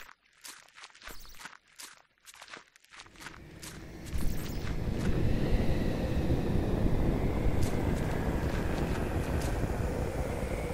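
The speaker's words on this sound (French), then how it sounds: "Là, j'entends le vent." Wind in the video game The Last Door, a steady broad rushing that rises after a few seconds of quieter stepping-like sounds and then holds loud and continuous to the end.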